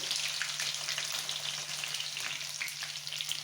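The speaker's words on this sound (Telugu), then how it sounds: "ఆవాలు చిక్కిన తర్వాత వెల్లుల్లి వేసేసుకోవాలండి" Steady close sizzle of garlic frying in hot oil with popped mustard seeds for a dried fish curry, a dense crackling hiss with small pops throughout and no voices.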